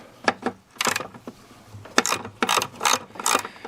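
A hand ratchet fitted with a 10mm deep socket loosening nuts on a GMC or Chevy truck during hood release cable work: bursts of rapid clicking, several short runs with pauses between, close and loud.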